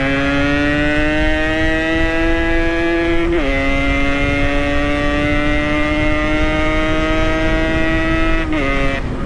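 A Yamaha RX King two-stroke motorcycle with a loud aftermarket exhaust holds a sustained high, buzzing rev close to the microphone, with two brief dips where the pitch drops, and no one talks.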